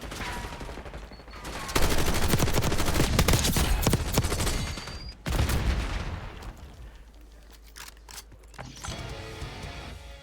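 Rapid bursts of PU-20 light machine gun fire (an RPK-style weapon) in a first-person shooter video game, loud sustained volleys with a brief pause and then a softer trailing burst, alone without talk.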